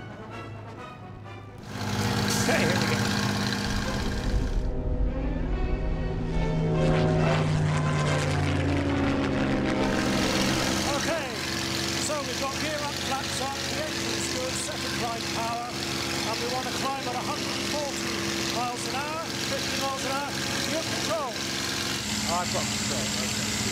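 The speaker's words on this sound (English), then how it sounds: "Lord Sugar realizes his boyhood dream of flying a Spitfire" A Spitfire's piston aero engine drones steadily throughout, swelling louder after a brief quieter opening, with a continuous rumbling roar and propeller wash heard from on board.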